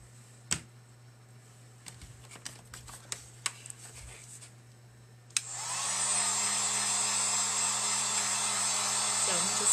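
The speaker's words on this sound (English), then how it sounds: "And then I'm going to use my heat gun on it." A heat gun switches on partway through and blows a loud, steady roar of hot air to dry paint on a wooden acorn cutout, after a run of small clicks and taps.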